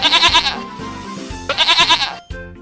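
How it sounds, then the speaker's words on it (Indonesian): A goat bleats in two loud, quavering bursts with a pulsing tremble, close by, followed by a short thump. "kambing"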